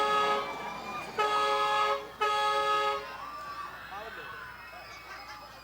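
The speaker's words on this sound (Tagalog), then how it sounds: "Bumubusina pa, ayan na." A car horn honks in three sustained blasts, separated by short gaps, loud and fairly close, with people talking afterwards.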